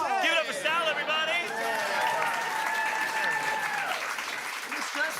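A studio audience breaks into sustained applause with cheering, loud and dense throughout, as a voice talks over the clapping at the start.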